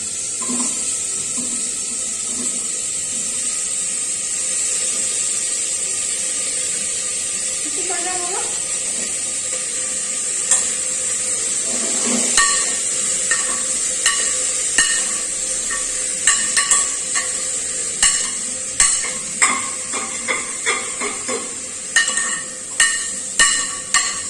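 Chicken and vegetables stir-fry in a pan with a constant bright sizzle, joined later by repeated sharp scraping and clacking strokes of a spatula. Someone speaks briefly near the start.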